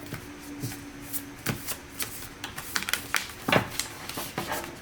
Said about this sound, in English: So here we will shuffle your oracle.